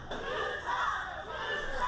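Wrestling crowd at a live indoor show chanting together in a steady rhythmic roar, loud and sustained, with a mass of voices blending into one continuous swell.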